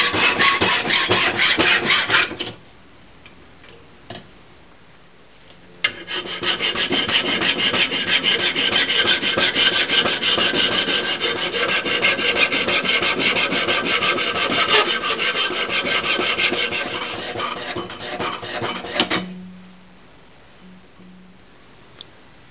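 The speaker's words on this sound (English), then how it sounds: "I'm going to go take a couple files and file this knife down a little bit" Hand files (a bastard file, then a second cut file) rasp along the blade of a handmade bush knife in long, steady, loud strokes, with a pause near the start and a quieter stretch at the end.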